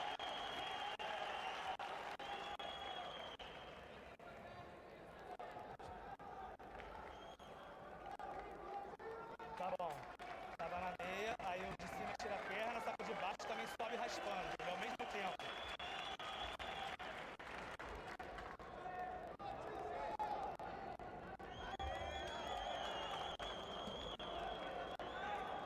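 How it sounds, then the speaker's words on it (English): Spectators at the Abu Dhabi World Masters Jiu-Jitsu Championship react during a match, a faint, distant crowd murmur with scattered clapping and cheering that swells and ebbs under continuous commentary. "You can see there the crowd respond to Batbaya."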